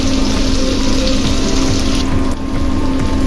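Water added to vegetables frying with masala, a loud continuous hissing gush of liquid hitting a hot pan, steady throughout with a brief dip near the end.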